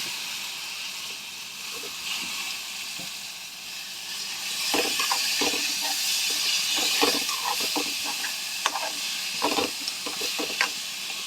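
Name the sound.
mung dal frying in oil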